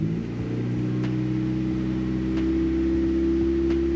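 A Volkswagen 20V car engine idles steadily after its idle air control valve is switched to PWM control on a Speeduino, the hum rising and holding at a higher speed with a faint click roughly every second.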